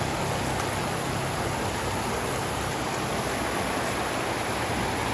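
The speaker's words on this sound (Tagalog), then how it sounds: "Lumakas ang tubig." A river runs strongly in a steady, dense rushing roar, loud and unbroken with no voices.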